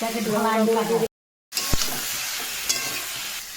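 Hilsa fish pieces fry in hot oil with a steady close sizzle and spoon stirring, cut by a brief silent gap; a person talks over part of it.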